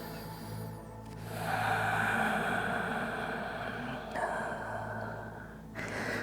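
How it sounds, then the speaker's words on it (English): Long, slow open-mouthed HA exhales during a vinyasa yoga breathing practice, a few drawn-out breathy sighs with gentle inhales between them, close and soft. "And long, slow HA exhales."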